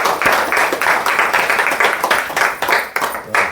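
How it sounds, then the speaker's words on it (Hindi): Applause rings out at a councillor's office gathering welcoming guests, dense steady clapping from a small crowd, close and continuous for a few seconds. "आपके लिए एक बार पुनः जोरदार तालियों से स्वागत करता हूँ"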